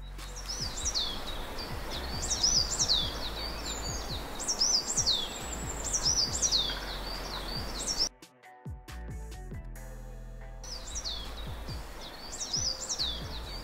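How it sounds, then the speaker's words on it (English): Repeated bright bird chirps and tweets over a dense ambient bed, briefly cut to near silence before the chirping returns. "I have then added the birds chirping sound effect."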